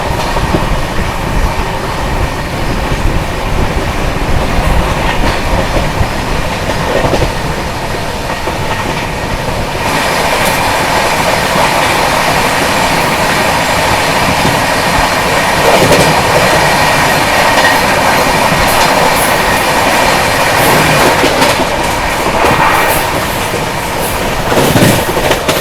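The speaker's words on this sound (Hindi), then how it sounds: "लगातार 130 मेंटेन किए हुए लो 131 चल रही है अभी अपनी राजधानी एक्सप्रेस" A Rajdhani Express runs at about 130 km/h, a loud, unbroken roar of wheels and rushing air with steady clickety-clack rhythm close by.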